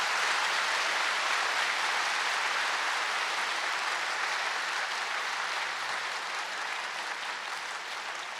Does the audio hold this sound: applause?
yes